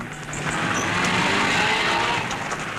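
A Porsche rally car on a mountain pass at the 1958 Coupe des Alpes, its engine roaring loud and close with a rasping, steady note and hints of tire noise, continuous throughout.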